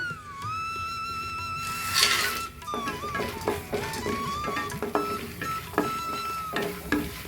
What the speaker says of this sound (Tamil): அதே நெய்யில் நம்ம எடுத்து வச்சுருக்க நட்ஸ் எல்லாம் ரோஸ்ட் பண்ணிக்குவோம்